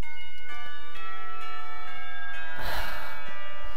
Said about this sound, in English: the warning bells chimed through the window